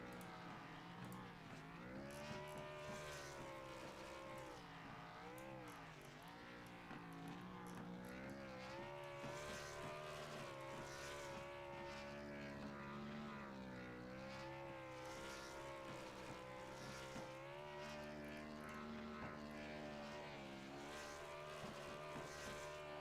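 A race car doing a victory burnout after winning an online-league Xtreme Xfinity Series race at Kentucky Speedway: a continuous loud engine roar that rises and wavers in pitch for over twenty seconds, with no voices.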